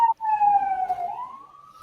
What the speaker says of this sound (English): It's a ambulance. It's all right.